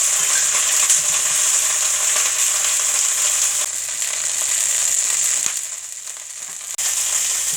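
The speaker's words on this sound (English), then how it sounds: "But the cauliflower is big, it can get a little toasty." Large cauliflower pieces toasting in a pan crackle in a loud, steady, close sizzle that dips briefly near the end, with occasional scrapes from a flat spatula and no talking.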